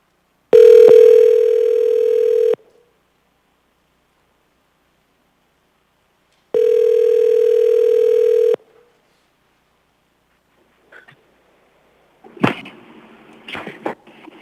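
A steady telephone tone sounds loud and clear in two separate two-second bursts with silence between them, followed by faint clicks and rustling line noise as a call is placed.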